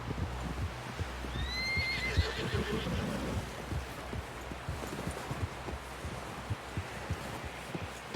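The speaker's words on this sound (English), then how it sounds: "Someone help John down off this horse." In the video game Red Dead Redemption 2, a horse whinnies with a rising, wavering neigh while hooves clop steadily in a quick rhythm throughout, over a low rumbling background.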